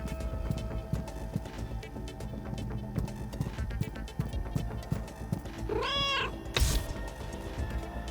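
A cat meows once, clear and drawn out, in the video game Schrodinger's Cat Burglar, rising over busy game music and effects near the end.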